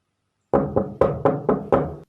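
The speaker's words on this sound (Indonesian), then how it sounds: "Suara ketukan lambat pintu terdengar." Six slow, heavy knocks strike a door in an even rhythm after a moment of silence, close and resonant, each decaying quickly, as a drama sound effect.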